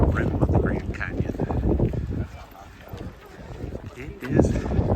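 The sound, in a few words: strong wind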